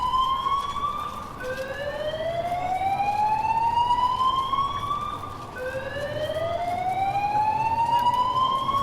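Wailing emergency vehicle sirens of first responders rushing to a lightning strike, sweeping up in long repeated rising tones, loud and continuous with overlapping harmonics over low road rumble.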